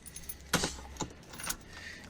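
A bunch of keys jangling close by in several short, bright metallic bursts, fairly quiet, with no talking.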